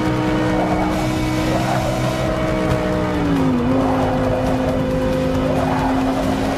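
A Lamborghini in Forza Motorsport 6 roars under steady throttle, its engine note loud and continuous, holding pitch, dipping briefly mid-run as it shifts, then climbing again, with tire noise underneath.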